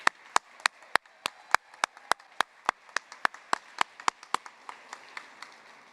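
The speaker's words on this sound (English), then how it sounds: "Please join me in another round of applause for our Bachelor of Science graduates." Sharp, evenly spaced claps ring out at a fall university commencement, a single nearby pair of hands clapping in a steady rhythm of roughly three per second over faint background applause from a larger crowd.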